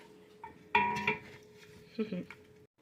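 A spoon clanks and scrapes inside a metal pot of simmering food in a few short bursts, with a steady low hum underneath.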